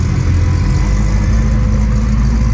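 A motorcycle engine idles steadily, a deep rumbling throb that stays loud and even throughout with no talking.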